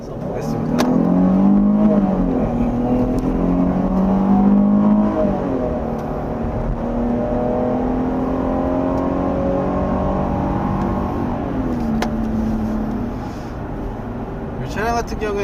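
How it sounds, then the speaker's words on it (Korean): A Jeep Grand Cherokee with a large-displacement engine accelerates hard from a start, its engine note climbing steadily through the gears, loud and close from inside the cabin, while someone talks over it. "제가 엑셀에 힘을 써보겠습니다"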